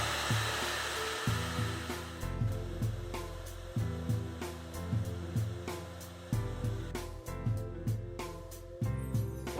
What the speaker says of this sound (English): I'm going to give these spots a little bit of heat with the hair dryer.